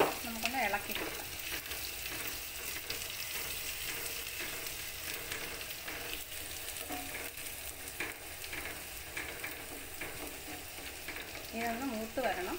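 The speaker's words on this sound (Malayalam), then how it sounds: "പച്ചമുളക്, ചെറിയ ഉള്ളി. നമുക്കൊന്ന് ഇളക്കി കൊടുക്കാം" Green chilies and shallots stir-fry in oil for a buttermilk curry: a soft, continuous sizzle with light scraping of the spoon against the pan, fairly quiet and close, no speech.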